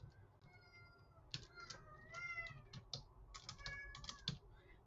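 A cat meows repeatedly at close range, with quick clattering keyboard typing running underneath in a quiet room.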